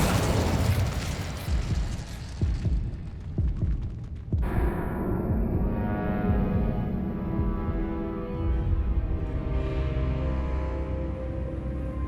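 A fiery Incendio spell blast in Hogwarts Legacy erupts as a loud, rumbling burst that roars for several seconds, then cuts to a lower crackling, throbbing tail that lingers steadily to the end.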